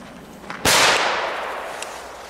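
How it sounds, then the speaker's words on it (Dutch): A single loud, sharp crackling ball firecracker bursts close by, followed by a fading crackling hiss that trails off over about a second and a half. "Dit zijn dus eigenlijk knetterballetjes, maar ze knallen dus echt mega goed."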